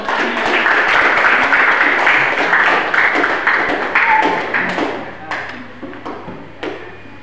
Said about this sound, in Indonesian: kita beri tepuk tangan untuk Pangeran Diponegoro